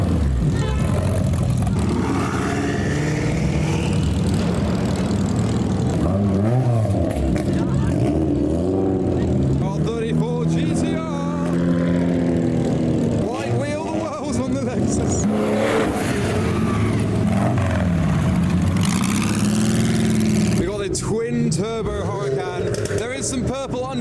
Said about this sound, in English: An RWB Porsche 993 is departing.